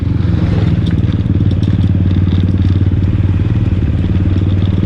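A Rusi manual motorcycle rides along a mountain road with its engine running steadily and loudly close by, a continuous even thrum that has no talking over it.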